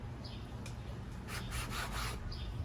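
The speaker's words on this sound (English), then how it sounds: "now we're going to cut it exactly in half, quickly to not get air in it" A bench scraper slices through a portion of fougasse dough for the Roccbox pizza oven, heard as a faint, soft rubbing scrape that swells into a few broad swipes midway through, with no talking.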